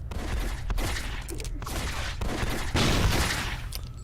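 Repeated laser pistol shots from the video game City of Heroes, a dense continuous volley of gunfire-like blasts, loud and close with no talking.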